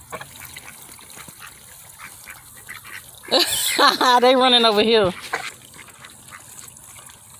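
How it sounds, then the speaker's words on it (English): Ducks and geese out in the rain give a burst of loud, nasal quacking and honking close by for a couple of seconds, over a steady patter of rain, with a person speaking briefly before it. "These are ducks."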